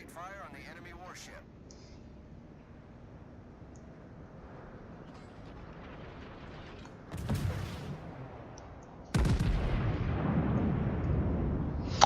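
A warship's guns boom in the World of Warships game: two heavy salvos land a couple of seconds apart, the second leaving a long loud rumble, under faint background game noise.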